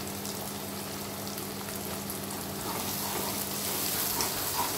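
Spices with turmeric, chilli powder, cumin and coriander sizzle and fry steadily in a pan for a Bengali potol curry, a continuous crackling hiss with no talk, growing slightly louder toward the end.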